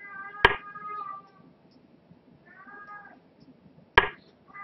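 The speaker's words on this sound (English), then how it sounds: "Oh, come on, stop meowing, dude." A cat meows indoors during an online chess game, with plaintive meows between sharp knocks that sound like pieces being set down, heard close and fairly quiet.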